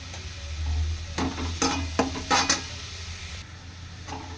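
Mango chitranna masala with turmeric and salt frying in a pan: low steady sizzle broken by several bursts of spoon scraping and clinks against the vessel, close by, with no talking.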